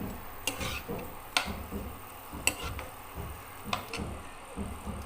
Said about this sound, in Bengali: পেঁয়াজটা ছেড়ে দিলাম। ছেড়ে একটু সময় ভাজতে থাকবো।